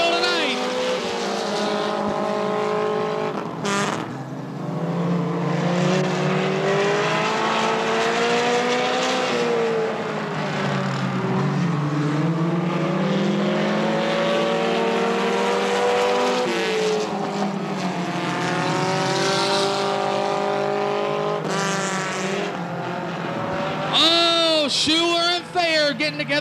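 Pony stock race cars roar around Tri City Motor Speedway, their engines rising and falling through laps while a commentator talks over them almost continuously.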